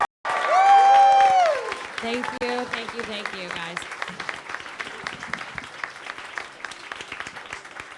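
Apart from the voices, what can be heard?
audience round of applause at Owl House Q&A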